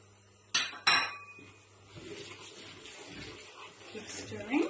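Fennel, cumin and coriander seeds stirred in a hot pan, two sharp metallic clinks of the spoon against the pan followed by soft scraping and a faint crackle, quiet and close.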